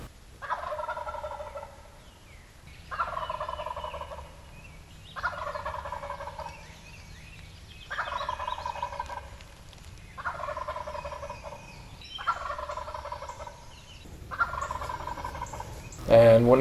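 A wild turkey gobbles repeatedly from its roost tree in the Virginia woods before dawn, seven rolling gobbles spaced a couple of seconds apart, moderately distant and clear over a quiet background.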